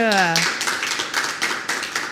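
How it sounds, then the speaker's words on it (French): An audience at a French young TV presenter competition breaks into clapping right after a voice trails off, a brief burst of many hands at close range that continues to the end. "Est-ce que vous pouvez applaudir pour vous"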